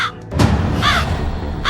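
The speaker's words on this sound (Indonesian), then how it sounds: "Itu burung gagak." A crow caws three times at a measured pace, loud and close over a low rumbling background, with no speech.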